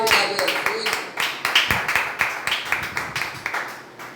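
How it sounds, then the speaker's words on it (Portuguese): A church congregation claps during a praise and worship service, a rhythmic series of sharp hand claps in regular beats, with voices mingling underneath. "Quem está compreendendo, dá uma salva de palmas bem bonito para Jesus"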